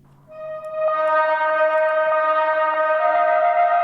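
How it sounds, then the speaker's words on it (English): A sustained synth lead for a metal mix, run through a quarter-note delay and heavy filtering, rings out as bright, steady held tones with rhythmic echo repeats and a mid-range focus. "It's a quarter note delay with heavy filters."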